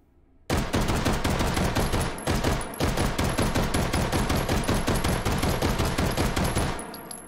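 Rapid sustained automatic fire from a Luger 1902 carbine in the VR game H3VR, held two-handed like a pistol: loud, dense shots rattling on for about six seconds with one brief pause partway through, no talk.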